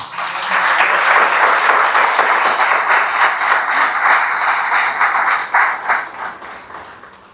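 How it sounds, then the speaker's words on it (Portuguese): A church congregation applauds together in a sustained wave of clapping that holds steady and then tapers off toward the end, filling the room without speech. "Você pode aplaudir a Jesus aí?"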